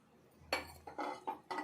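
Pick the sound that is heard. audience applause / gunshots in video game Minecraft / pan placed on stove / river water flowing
pan placed on stove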